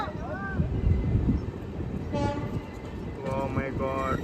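The Prasanthi Express rolls into Hindupur station with a rumbling, rattling rail noise and wind buffeting, while people talk and call out nearby over it.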